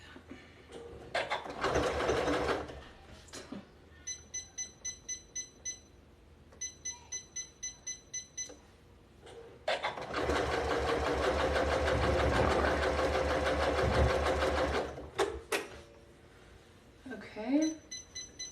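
A new sewing machine stitches a zigzag over yarn in several bursts, some short pulsing runs and one longer steady whirring stretch, with beeps between runs and a person talking in the gaps.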